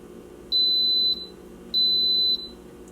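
Instant Pot Nova 6-quart pressure cooker sounding two clear, high electronic beeps, each about half a second long, over a quiet kitchen hum.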